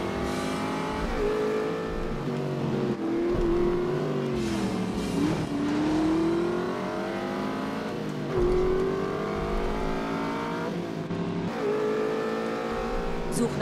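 A car driven in the video game The Saboteur revs and shifts through gears steadily, its engine note rising and falling continuously while a voice talks over it.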